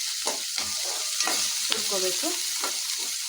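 Raw masala paste for an egg masala fries in oil with a constant close hiss, while a spoon scrapes and stirs it in uneven strokes.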